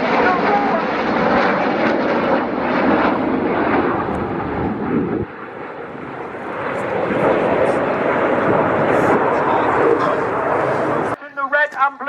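Red Arrows jets roaring overhead during a flying display at RAF Cosford air show, a loud sustained engine rumble that dips briefly then surges again, with an announcer talking over it and a dog barking near the end.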